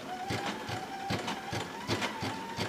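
A Baby Lock Sashiko machine stitches along a fabric seam, chugging in a steady, regular rhythm of repeated mechanical thumps with a faint whirring tone beneath, close and moderately loud.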